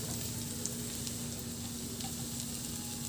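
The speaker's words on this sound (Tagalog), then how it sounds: "Sa kawali, magpainit na ako ng mantika at igisa ko na rin yung bawang." Garlic sizzles in hot oil in a pan, a steady, even frying hiss with soft crackles that stays at a constant moderate level throughout, with no voices.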